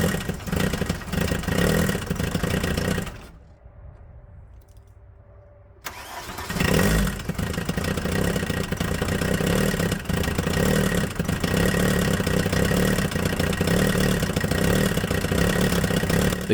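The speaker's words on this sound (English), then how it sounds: "The good news is the engine started right up." A 1984 Volkswagen Jetta diesel from an abandoned project cranks, then falls briefly quiet and fires up into a rough, uneven idle with one cylinder not firing, chugging steadily close by.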